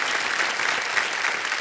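Steady, dense clapping from a studio audience on the game show Kaun Banega Crorepati, continuous and even throughout.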